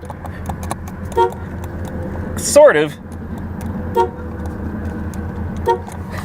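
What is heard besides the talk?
1987 Chevy Monte Carlo SS car horn honking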